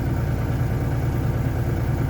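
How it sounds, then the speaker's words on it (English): An LSXR4145C tractor engine idles at night in cold weather, a steady low, pulsing diesel-like drone heard from the cab, even and unbroken for the whole stretch. "I'm in my tractor."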